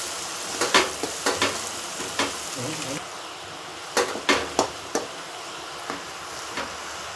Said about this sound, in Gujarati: બધી ગ્રેવીમાં મિક્સ થઈ જાય ત્યાં સુધી આપણે આને હલાવી અને મિક્સ કરી દઈશું.